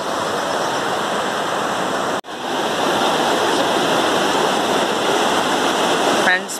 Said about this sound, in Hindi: बहुत ही साफ नदी है